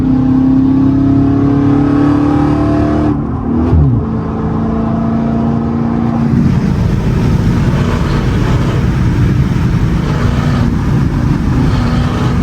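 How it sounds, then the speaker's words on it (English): A Dodge Challenger SRT8 392 Scat Pack heard from the cabin on the road: a deep, loud engine drone that climbs in pitch, drops away briefly, then rises into a strong rev with a broad rushing exhaust roar. "Y'all heard them pipes?"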